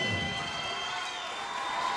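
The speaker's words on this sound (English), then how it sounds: "crowd loves it here in Hollywood, Florida" Steady, dense roar of a boxing crowd cheering during the 11th round of a Mike Arnaoutis vs. Juan Urango fight in Hollywood, Florida, a continuous wash of voices at even loudness throughout.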